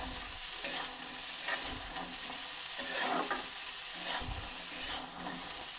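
Diced pumpkin frying in a pan for Bengali kumro chhakka, a steady close sizzle with periodic scraping stirs from a spatula throughout, no voices.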